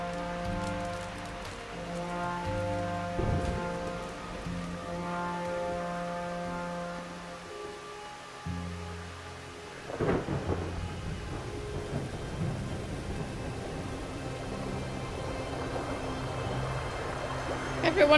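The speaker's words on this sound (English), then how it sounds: "Storm's coming in" Storm rain pours steadily in the video game Diluvian Winds near a dock and lighthouse, with heavy thunder cracks and rumbles breaking through, including a loud clap about midway, over tonal game music.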